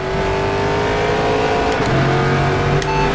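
Corvette C7.R GTE race car engine lapping Sebring in rFactor 2, a loud steady drone with rising and shifting revs and brief gear-change blips, close and continuous with no talking.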